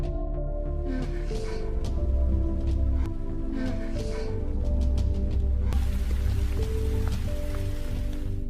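Heavy rain pours steadily and loudly through the whole stretch, a dense hiss over a low musical score from a psychopath thriller film.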